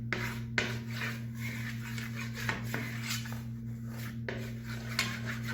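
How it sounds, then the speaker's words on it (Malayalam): A brush rubbing ghee over a metal dish for grape halwa, giving soft repeated scraping strokes with a few small clicks, close and quiet over a steady hum. "ബ്രഷ് ഉപയോഗിച്ച് നമുക്ക് ഇത് നെയ്യ് പുരട്ടി കൊടുക്കാം."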